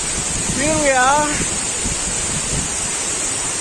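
Lawean Waterfall in the rain gives a steady broadband roar that runs all through, while a voice speaks briefly over it near the start.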